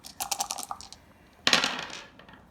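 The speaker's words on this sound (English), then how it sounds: "We roll 4 dice again." Four dice rolled during a turn of the board game Pillow Fort: a scatter of small rattling clicks tumbling across the table, then a louder clattering burst as they land and settle, close and clear with no voices.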